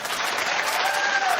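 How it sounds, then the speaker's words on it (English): Dense, steady clapping from a television talk show studio audience, loud and continuous for the whole moment with a faint whoop riding on top. "keep the claps going"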